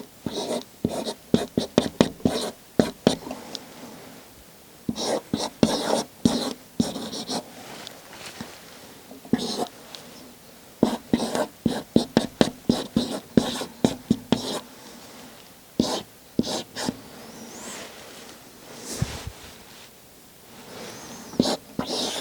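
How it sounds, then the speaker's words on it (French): Handwriting scratches across paper in a steady series of quick, close pen or pencil strokes, grouped into bursts with brief pauses between words, with no talking over it. "je vais écrire des mots"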